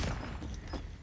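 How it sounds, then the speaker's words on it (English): A grenade blast in a shooter video game, a short, dull, muffled boom with a rumbling tail. "Oh, that was a nade."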